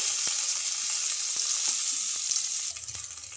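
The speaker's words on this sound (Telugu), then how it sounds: "ఈ ఆయిల్ హీట్ అయిన తర్వాత ఒక స్పూన్ దాకా జీలకర్ర అలాగే చిన్నగా కట్ చేసుకున్న కరివేపాకు మిర్చి కూడా వేసుకోవాలి" Cumin seeds, finely chopped curry leaves and green chilies crackle and sizzle in hot oil, a steady close frying hiss with scattered pops, briefly stirred near the end.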